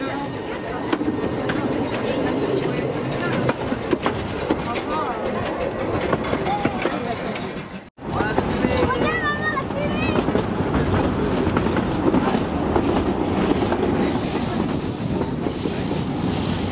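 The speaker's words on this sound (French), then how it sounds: "il va faire passer la locomotive devant" Locomotive passing on a railway on a rainy, windy day, a continuous loud rumble and rattle of rail cars with wind buffeting the microphone, broken by a brief cut midway, and people chattering nearby over it.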